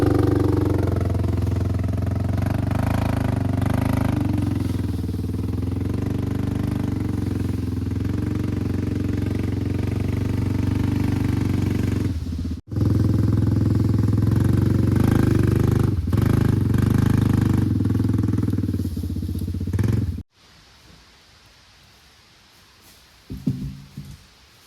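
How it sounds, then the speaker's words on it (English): Four-wheeler ATV engine skidding a large log through the woods for a log cabin, a loud steady mid-pitched drone that holds for about twenty seconds, then cuts out abruptly, leaving quiet with a few faint knocks. "So if the four-wheeler can pull this one"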